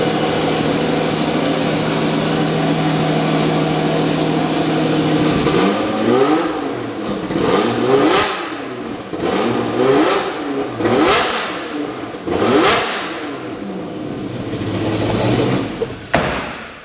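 A car engine idles for a few seconds, then revs again and again in loud, close bursts that climb in pitch, each one falling back before the next.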